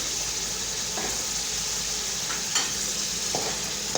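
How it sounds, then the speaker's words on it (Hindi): Spices and yogurt for a vegetable pulao sizzle and fry steadily in a pan, a constant close hiss with occasional soft stirring scrapes and small pops, no voices over it. "और इसको यहाँ पे थोड़ा सा भूनेंगे यहाँ तक कि दही अपना कलर छोड़ दे।"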